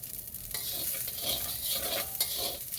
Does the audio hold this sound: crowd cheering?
no